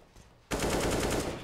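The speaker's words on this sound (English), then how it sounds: "just spamming away through the smoke with the AK" AK rifle in Counter-Strike: Global Offensive spraying through smoke during a competitive match, a sustained rapid burst of automatic fire that starts abruptly after a quiet moment and continues loud and steady to the end.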